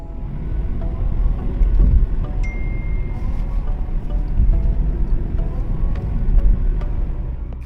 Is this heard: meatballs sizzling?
no